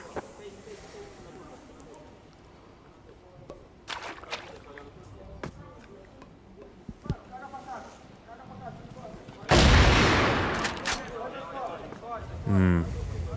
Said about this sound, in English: It's a nice shot from GDSz and an even better to follow.